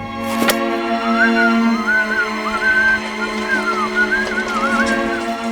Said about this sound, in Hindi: तू सीटी बजा रहा है